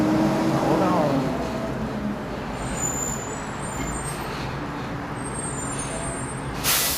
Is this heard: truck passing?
yes